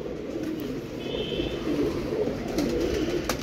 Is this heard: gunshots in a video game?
no